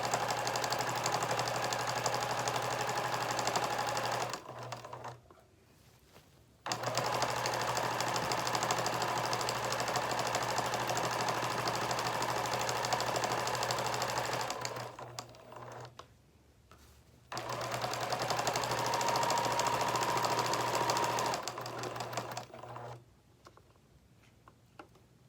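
Sewing machine stitching binding on a baby blanket in three steady runs of rapid mechanical chatter, each stopping briefly before starting again, close and clear with no talking.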